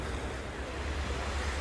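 Sea waves on a beach at Playa Blanca, Lanzarote, wash in as a soft, steady surf hiss with low wind rumble, heard faintly and without a break.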